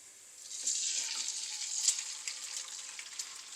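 Three eggs frying in a pan with potato fry, a hissing sizzle that swells after a quiet start and holds steady, close and moderately loud with faint crackles and no talking.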